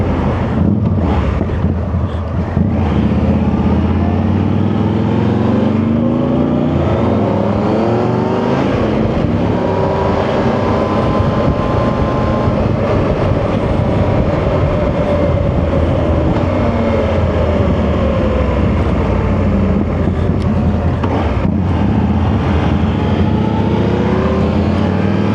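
A Victory cruiser motorcycle engine roars continuously while riding, loud and close, its pitch rising and falling through gear changes over a rush of wind.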